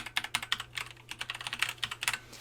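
Keys clatter on a computer keyboard in quick, uneven bursts of typing, close and clear with no other sound.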